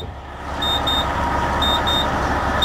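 A Prevost bus warning beeper sounds in short, evenly spaced pairs of high tones over the low rumble of an idling engine, triggered by loose belts.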